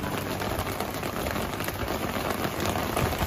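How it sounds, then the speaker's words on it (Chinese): Hail comes down in the Xinjiang highlands, a dense, even hiss of pelting ice that holds steady and fairly loud throughout, with no speech. "这么一小会儿下起冰雹了"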